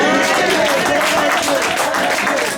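Church congregation applauding loudly for the Lord during a sermon, dense sustained clapping close and full, with voices mingled in.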